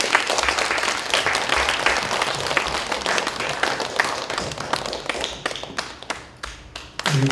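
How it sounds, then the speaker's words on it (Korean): An audience at a poetry recital in Chuncheon gives a poet a warm welcome with loud, dense applause that holds steady, then thins into scattered claps near the end. "큰 박수로 맞아주시기 바랍니다."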